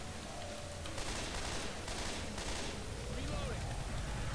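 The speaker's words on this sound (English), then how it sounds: "I'm shooting people to make those blood and guts spew all over the place" Gunfire in the zombie shooter Left 4 Dead 2, a dense, continuous rattle of shots at steady volume with a few louder bursts in the mix.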